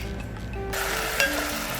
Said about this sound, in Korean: 또 먼저 이제 쇠고기를 굽습니다.